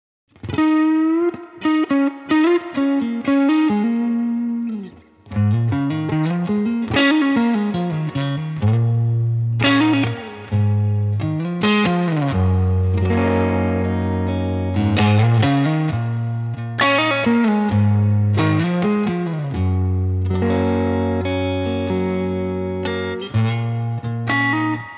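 An instrument played through effects units with distortion, chorus and reverb, loud and close, sounding sustained ringing chords and low bass tones that layer and overlap over about twenty-five seconds.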